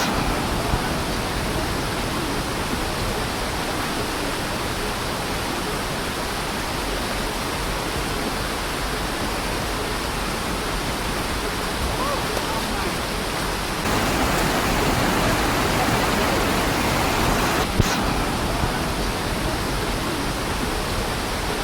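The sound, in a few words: waterfall flowing over rocks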